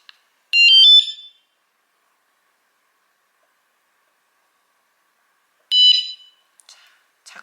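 A motorcycle anti-theft alarm on a Harley Softail gives two short, high electronic warbling chirps, a few seconds apart, loud and close against near silence, with faint clicks after the second.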